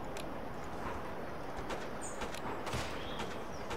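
Hooves clip-clop in a steady patter as horses approach in the Wild West train-defence game Bounty Train, over a busy noisy background with scattered higher chirps and clicks.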